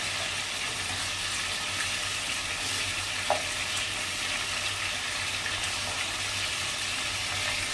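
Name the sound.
chicken pieces frying until browned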